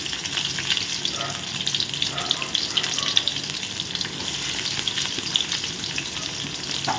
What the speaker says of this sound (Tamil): அடுத்து வெட்டி வச்சுருக்க வெங்காயத்தை போடுவோம்